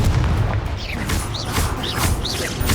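A Confringo fire spell bursts in Hogwarts Legacy combat, with loud booming blasts and whooshing magical streaks rising repeatedly over dense rumbling battle noise.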